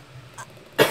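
A person coughing to clear something stuck in the throat: a faint short throat noise followed by one sharp, close cough at the end.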